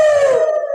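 A jackal howl plays as a sound effect in a Bhaona, a traditional Assamese devotional stage play at a namghar: one loud, close, wavering tonal howl, cut off after under a second.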